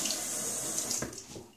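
Tap water runs steadily into a sink for a short stretch, a continuous close hiss and splash with slight changes in the flow near the end, and no voices.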